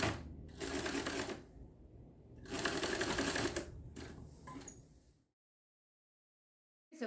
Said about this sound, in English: we're going to sew right across the top of that